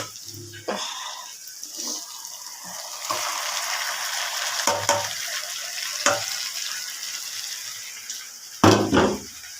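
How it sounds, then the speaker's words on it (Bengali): Chicken pieces coated in ginger-garlic paste hit a hot pan and sizzle with a steady broadband hiss, broken by a few clatters and a louder stir near the end, with no talking. "এবার এর মধ্যে চিকেনটাকে দিয়ে দেবো"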